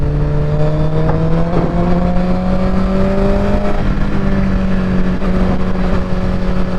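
A motorcycle rides across the Golden Gate Bridge in light traffic, its engine humming loud and steady with a droning, slowly shifting pitch under constant wind rush.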